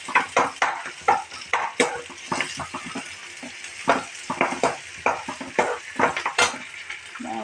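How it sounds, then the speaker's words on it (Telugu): Egg curry ingredients frying in a pan, with repeated scraping and stirring clatter against the pan over a steady sizzle, close and fairly loud, with no voices. "జారిపోకుండా బాగా వేగనివ్వాలి"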